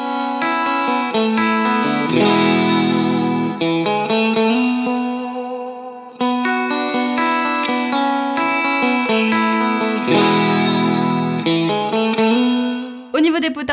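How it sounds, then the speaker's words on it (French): Electric guitar run through a UAFX Dream '65 pedal with spring reverb and vibrato, clean chords ringing with a shimmering warble and reverb tails, strummed in phrases that continue nearly unbroken before a brief pause near the end. "Elle a un son clair très puissant, de jolies distorsions mais surtout des effets divins avec une réverbe à ressort et un vibrato."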